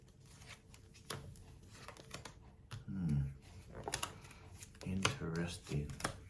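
Tarot cards being shuffled in a couple of brief papery riffling bursts, with quiet tapping and a voice speaking nearby.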